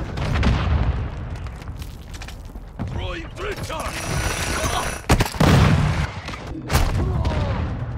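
Shotgun gunfire in Call of Duty Modern Warfare II: a few loud, sharp booming blasts cut through busy in-game mechanical clatter, with a player's voice talking over the action.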